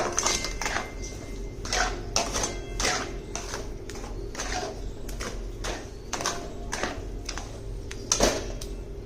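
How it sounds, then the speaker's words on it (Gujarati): A ghee mixture stirred steadily in a pan over a medium gas flame, with rhythmic scraping and clinking of a spoon against the pan repeating at close range, and faint talk in the background. "ધીમાથી મીડિયમ ગેસ પર આને સતત આપણે હલાવતા રહીશું"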